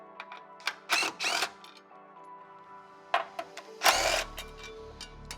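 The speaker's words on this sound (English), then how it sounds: "pulling these 17 millimeter bolts away from the bottom of the vehicle" Hand tools work 17 mm bolts loose from the underside of a Rivian R1T truck while sheet metal braces come off: short bursts of ratcheting and metallic clatter, two louder clusters separated by quieter gaps, close by with no talk.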